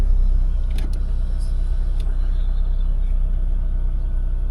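Tata Punch car driving on a rough mountain road between Billawar and Sarthal in Jammu and Kashmir during the monsoon, a steady loud engine rumble with a few faint clicks and no talking.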